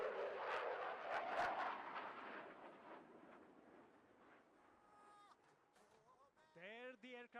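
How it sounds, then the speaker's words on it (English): An aircraft pulls up with a broad roaring rush that is strongest at first and then slowly fades. Toward the end, voices and tonal sounds come in over the fading roar. "There the aircraft pulls up"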